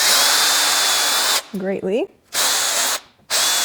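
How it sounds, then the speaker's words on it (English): A power drill pre-drills pilot holes into the end grain of wooden table legs, a loud steady whine broken by short gaps, with a brief voice passing over it midway. "I'm going to pre-drill these because anytime you go into end grain, the chances of splitting increases"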